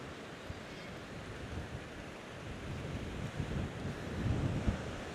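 Wind blows along the seafront at Ventnor on the Isle of Wight, rushing and buffeting against the microphone with the low roll of surf beneath, rising toward the end, with no voices.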